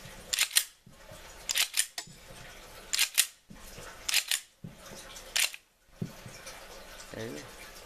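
A Smith & Wesson SW40F pistol magazine loaded with snap caps clicks and snaps repeatedly in bursts, sharp close metallic clacks of locking in and feeding, spaced by brief pauses with faint handling noise.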